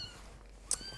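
A single short, high-pitched meow from a newborn orphaned kitten, brief and fairly faint against a soft background hiss.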